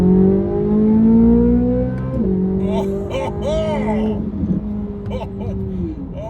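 A Corvette C8 Z06 flat-plane crank V8 winds out hard toward its 8,500 RPM limit, its loud, rising howl dropping sharply at each gear shift and climbing again through several pulls.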